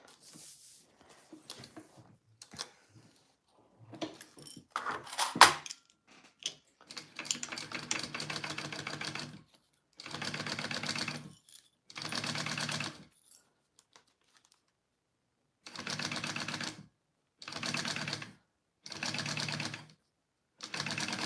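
Sewing machine basting a seam on a Joey Pouch bag, running in repeated bursts of steady whirring stitches separated by pauses, with clips and fabric handled between runs.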